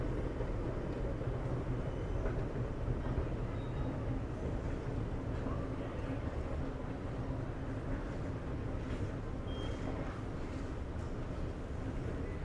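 A metro train rumbles through an underground station in Valencia, reached by escalators from the airport, producing a steady, loud low roar with hissing broadband noise that holds throughout without a break.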